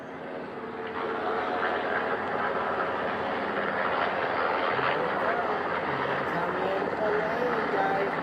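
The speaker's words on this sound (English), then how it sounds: "The first helicopter coming in." A steady, loud rotor and engine roar from a helicopter approaching to land on a ship's flight deck, growing slightly fuller over several seconds, with faint voices underneath.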